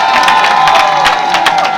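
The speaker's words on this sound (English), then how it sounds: "Ladies and gentlemen, can we give both candidates applause?" An audience at a general assembly applauds and cheers for two election candidates, with loud clapping mixed with whoops and shouts throughout.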